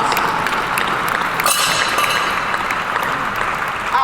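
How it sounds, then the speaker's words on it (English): Loud, sustained applause from a conference audience at a city summit, a dense steady wash of clapping filling the hall from start to finish with no speech over it. "Let's give them a big round of applause."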